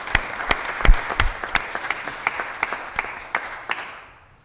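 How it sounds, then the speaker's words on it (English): Town council meeting attendees give a round of applause: distinct individual claps over a steady patter, loud and close, tapering off and fading to quiet at the end. "More applause."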